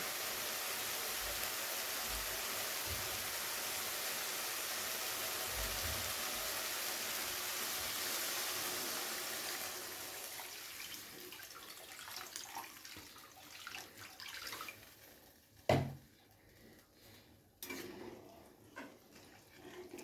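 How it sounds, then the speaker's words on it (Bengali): Water poured into a pan of Bengali aar fish curry to make gravy, a steady rushing pour for about ten seconds that fades into quieter sizzling, stirring and a few clinks of the pan. "জলটা দিয়ে খুব ভালো করে নাড়াচাড়া করে ফুটতে দেব ঝোলটা।"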